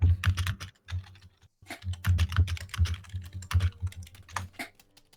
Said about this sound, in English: Do you have a mechanical keyboard?